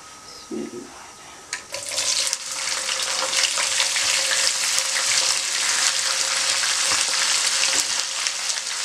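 Chopped onions hit hot oil with bay leaves, starting with a short clatter before a loud, steady sizzle rises at about two seconds and holds close and continuous to the end, with no voices.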